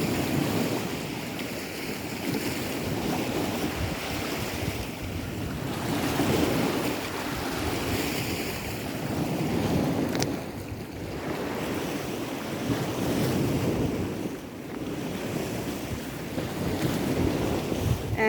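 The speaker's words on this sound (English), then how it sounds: "And then you have there the beach of Strunjan." Sea waves washing onto Strunjan beach in Slovenia's nature park, a steady broad surf wash with rolling swells and gusts of wind buffeting the microphone throughout, no voices.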